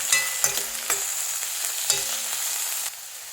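Tomatoes go into onions frying in a pan, a loud bright sizzle with a few sharp stirring clacks, then a settled, slightly quieter hiss at the end.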